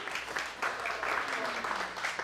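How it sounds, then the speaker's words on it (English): An audience at a lighting training session gives a brief round of applause, fairly faint and distant, with scattered clapping over a couple of seconds. "Give her a round of applause."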